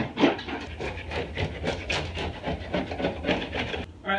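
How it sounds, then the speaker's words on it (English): Repeated rasping scrapes as a heavy caulk line is scraped off a door jamb and drywall corner, a quick rhythmic series of close strokes with no talking. "let's go ahead and scrape the heavy caulk line"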